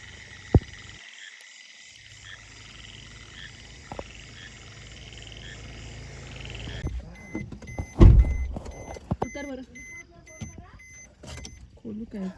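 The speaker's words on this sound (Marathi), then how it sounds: "रात्री गाव बघा आणि आवाज बघा, बेडकांचे आणि छोटे मोठे किडे असतात त्यांचे." Frogs croak in a steady chorus with a dense insect buzz on a rainy-season night in a village near Junnar, Maharashtra, then a vehicle passes nearby and the chorus thins.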